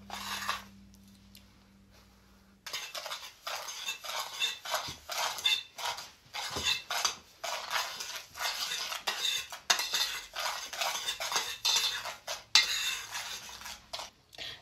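A spoon stirs a sugar mixture in a bowl with rapid, rhythmic metallic clinks and scrapes close by. The stirring starts after a short quiet pause and then keeps going steadily.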